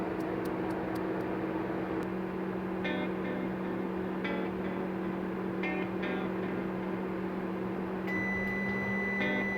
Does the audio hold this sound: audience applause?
no